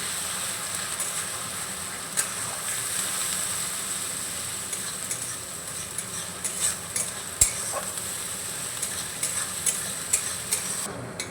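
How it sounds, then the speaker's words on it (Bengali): Onion and garlic paste fry with a soft continuous sizzle, broken by occasional scraping stirs of a spoon against the pan, close by, while cooking potato biryani. "রসুন বাটা পেঁয়াজের সঙ্গে নাড়াচাড়া করে একটু ভাজা ভাজা করে নেব"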